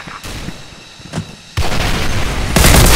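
A frag grenade blast in a Special Force 2 match lands as a sudden loud boom midway, followed by a rumbling roar that swells even louder near the end, after a quieter stretch of faint game noise.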